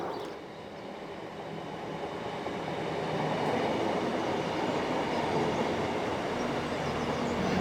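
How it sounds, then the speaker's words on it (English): A Class 158 diesel train runs through a quiet station, a steady broad rumble and rail noise that builds and stays loud throughout, heard close with no talking. "That 158 that just went through will be one of the Barnstable trains."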